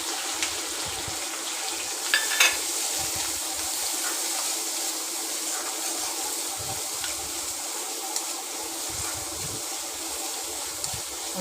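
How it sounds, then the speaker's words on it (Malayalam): Finely chopped onion sautés with curry leaves in a pan for chicken curry, giving a steady, moderate hiss and sizzle with a few faint clicks from stirring, and no talk. "ഉള്ളി നല്ലവണ്ണം ബ്രൗൺ കളർ ആവുന്നത് വരെ വഴറ്റിയെടുക്കും."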